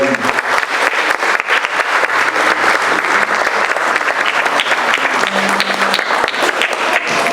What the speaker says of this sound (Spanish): vamos a darle un fuerte aplauso para el cajón peruano